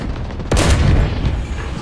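Turán tank cannon firing in War Thunder: a single close, heavy boom with a rumbling tail, heard over steady engine and battlefield noise.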